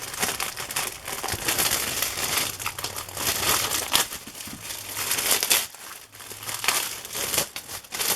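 Continuous crinkly tearing and crunching of paper and cardboard as a tightly wedged book is ripped out of a shelf, close and fairly loud, with brief pauses and scraping, no talking.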